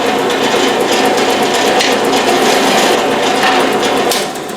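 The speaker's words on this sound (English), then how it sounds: "That was really running too fast for that size drill." A power drill running too fast for its bit size whirs steadily at high speed as it enlarges a hole, a continuous loud grinding buzz that eases off at the very end.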